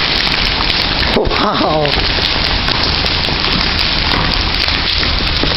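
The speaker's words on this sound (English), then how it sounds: "These are the size of hailstones, people." Hailstones pelt down in a hailstorm with a loud, dense, unbroken drumming and clatter. A person briefly exclaims partway through.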